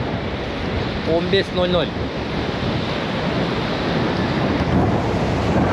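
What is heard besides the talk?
ocean waves breaking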